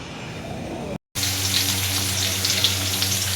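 Tempering for lemon rice frying in a hot pan, giving a steady, loud sizzling hiss that cuts out briefly and then resumes evenly.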